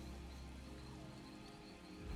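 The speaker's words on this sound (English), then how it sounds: "I could do without this damnable rain. It's been storming since we arrived, and it shows no sign of letting up." Rain in The Elder Scrolls Online falls as a faint, steady hiss of patter with a low rumbling undertone, continuous and distant.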